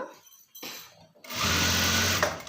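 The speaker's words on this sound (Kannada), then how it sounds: "ಸ್ಲೀವ್ ರೌಂಡು ಸ್ಟಿಚ್ ಹಾಕ್ತಿದ್ದೀನಿ." A sewing machine stitches round a sleeve of a readymade top, starting and stopping in short bursts before settling into a loud, steady whirring run with a fast mechanical rhythm.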